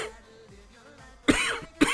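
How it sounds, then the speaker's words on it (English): Two sharp, close coughs near the end, one after the other, following a quieter stretch of faint background sound. "Oh, delayed cough."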